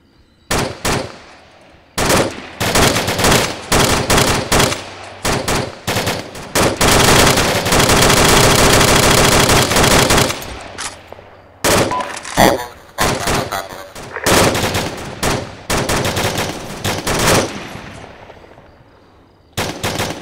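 Machine gun fire in a combat video game set on an island: loud, repeated bursts of rapid automatic fire, including one long sustained stretch, broken by short gaps and single shots, with no talk over it.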